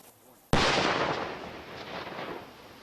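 A single distant explosion goes off suddenly after a quiet moment, a sharp broadband boom followed by a long rumbling decay.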